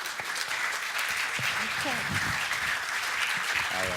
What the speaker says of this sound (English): please come on up and give them a round of applause